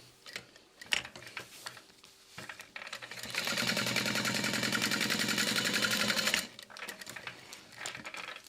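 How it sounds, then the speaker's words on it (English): A sewing machine top stitches a vinyl zipper tab in a fast, even run of rapid mechanical clatter lasting a few seconds, framed by quieter handling clicks and fabric rustle before and after. "We'll zip that up at least halfway and top stitch."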